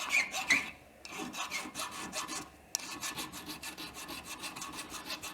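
Hand filing on metal for a Triumph Tiger Cub motorcycle build, a quick run of close rasping strokes in a steady rhythm, with a short pause between bursts and no speech.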